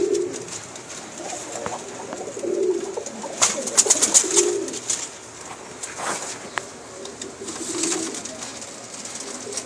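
Golden Tadi pigeons coo in low, soft, repeated calls close by, with rustles and flutters and faint chirps from other birds in the background.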